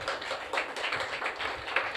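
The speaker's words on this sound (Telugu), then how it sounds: "తెలిసిన వాళ్ళు చప్పట్లు కొట్టండి ఒకసారి." Scattered clapping from a church congregation during a sermon, a brisk patter of many hands that stays steady and fairly close for a couple of seconds.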